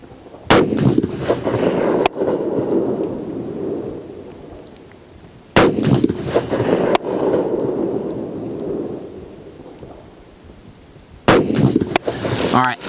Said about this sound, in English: I'm going to shoot top bullseye from back here at 100. Just 3 rounds, that's all.